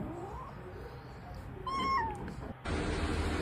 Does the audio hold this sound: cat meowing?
yes